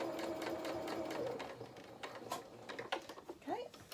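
A sewing machine stitches fabric with a steady rapid mechanical whir for about two seconds, then stops and leaves scattered soft clicks and handling noises, with a voice speaking over it.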